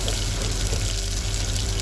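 A ground paste of coconut, garlic, ginger and onion fries in hot oil for a spicy chicken rassa, giving a continuous close hissing sizzle at an even level, with no speech.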